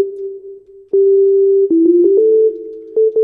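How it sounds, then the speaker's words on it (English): A pure synthesized sine tone from the Harmless synthesizer, bathed in reverb, holds steady and then steps through several short pitch changes with soft attacks, heard alone with no other sounds. "But what I'm thinking is we need a sine wave."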